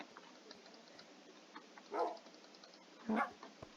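A puppy in a video game gives two short, light barks about a second apart, faint over a quiet ticking background.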